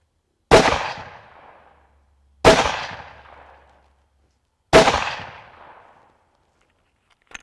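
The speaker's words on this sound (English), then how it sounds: "then we'll shoot our 3-shot group" Three loud hunting rifle shots fired at a target with hunting ammunition, evenly spaced about two seconds apart, each a sharp crack followed by a rolling echo that fades before the next.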